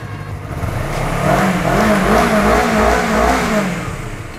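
A Honda CBR 250 RR motorcycle engine revs up and falls back in one smooth, loud rise and drop, its short exhaust giving a clean, close, continuous tone with no voices.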